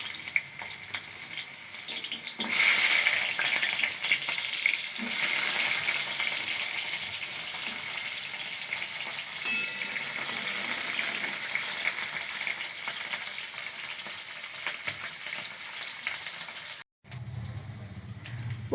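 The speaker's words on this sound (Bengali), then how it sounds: "উচ্ছে দিয়ে দেব।" Bitter gourd (uchhe) fries in oil with an even, close sizzle and a dense hiss. A brief burst of stirring and a short break come near the end, and no voices are heard.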